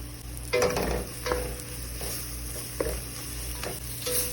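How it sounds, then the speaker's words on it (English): Paprika and spices sautéing in a pan for a cheap, easy curry, with a steady low sizzle and a few louder scraping stirs spaced through the clip, close and without talk. "some paprika, saute it, and then add the black pepper"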